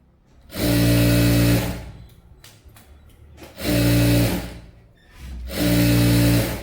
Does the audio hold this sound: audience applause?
no